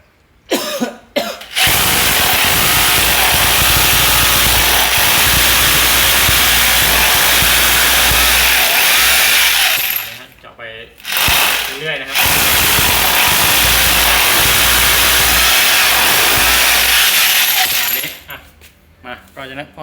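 Loud, grinding roar of a power drill boring into concrete, running in long sustained bursts separated by short pauses.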